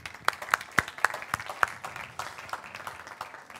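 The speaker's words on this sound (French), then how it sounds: "Si vous voulez bien applaudir Mathieu Rigaud" Audience applause after a building-management workshop talk, opening with several sharp, distinct claps that quickly blend into a lighter, scattered clapping.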